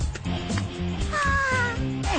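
Cat giving a few drawn-out meows with a rising whine near the end, over a busy background of music or cartoon sound effects.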